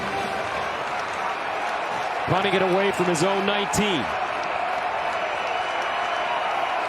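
Stadium crowd at a Michigan at Iowa college football game, a dense sustained roar filling the background under a commentator's voice, with a short whistle or horn-like tonal burst partway through.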